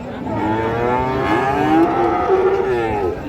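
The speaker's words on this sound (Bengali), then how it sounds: "আমরা এই যে এখানে একটা কোয়ালিটি সম্পন্ন গরু দেখতেছি" A quality cow at a rural cattle market lows in one long, loud, close moo that fills the whole moment, with no talking over it.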